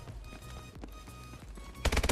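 AW AMR9 gun firing in a shooter video game, a rapid close burst of sharp shots that grows louder and more intense near the end, with no voices.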